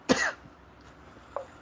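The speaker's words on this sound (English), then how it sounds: "I've still got this cough" A single sharp cough up close, followed by a faint short throat sound a moment later.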